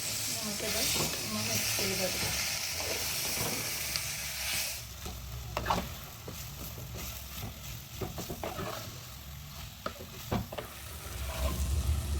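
Chopped bilimbi (irumban puli) hits a hot pan in a home kitchen, giving a loud steady sizzle and hiss, then the frying continues as a spoon scrapes and stirs with irregular clatters, with a voice talking over it.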